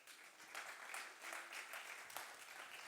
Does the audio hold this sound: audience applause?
yes